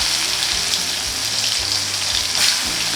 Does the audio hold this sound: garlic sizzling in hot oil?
yes